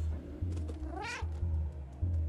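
Cat meowing in the video game Stray, one clear drawn-out meow over a steady pulsing low game hum with soft clicks.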